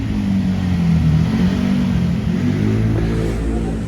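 Honda Vario 125 scooter fitted with a ZRC aftermarket exhaust revs steadily up close, a loud continuous engine drone with a slight rise and fall in pitch, heard alone.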